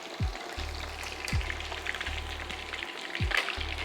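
Chicken wings deep fry in oil at about 340 degrees, giving a steady, close, crackling sizzle with small pops and a faint low hum underneath, with no voices.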